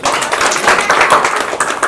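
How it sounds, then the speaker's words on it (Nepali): Guests at a Nepali Christian wedding ceremony applaud together, a loud, dense burst of clapping that holds steady throughout with no break. "ताली बजाइदिनुहोस्"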